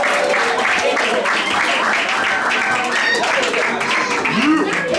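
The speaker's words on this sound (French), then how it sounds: "Est-ce que nous pouvons applaudir déjà pour le marié" Guests at a wedding applaud the groom, a continuous crowd clapping heard under talking voices throughout.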